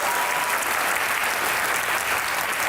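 Studio audience at a talk show breaking into loud, dense applause to welcome the guests, a continuous close-up wash of clapping with no gaps.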